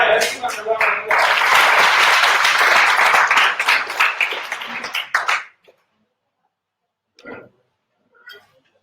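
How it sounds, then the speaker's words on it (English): A crowd applauds loudly for about five seconds, then the clapping fades out, followed by a couple of brief faint sounds. "let's give them a round of applause"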